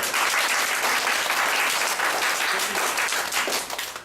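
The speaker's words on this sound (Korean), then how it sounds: "박수!" Classroom audience applause at the start of an English grammar lecture, a dense, even burst of many hands clapping close by that tapers off near the end.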